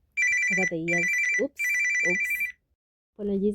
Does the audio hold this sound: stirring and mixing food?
no